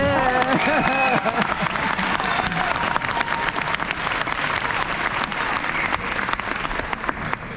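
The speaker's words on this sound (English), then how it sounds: "Should we give him another round of applause?" Audience applause and cheering at a school presentation day, loud and sustained for the whole stretch, with shouting voices and talk over the clapping at the start.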